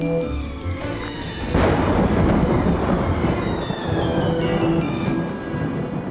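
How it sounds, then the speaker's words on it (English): A cartoon thunderstorm in a Postman Pat episode, with a broad rumble of thunder breaking in after a couple of seconds, then steady loud rain and rumbling continuing to the end, no voices. "Here comes the storm."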